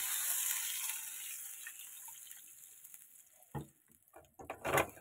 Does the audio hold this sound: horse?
no